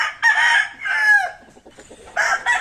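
Backyard gamefowl roosters of the Claro Romero Sweater and White Kelso breeds crow loudly and close by: two long crows in quick succession, a short lull, then another crow starting.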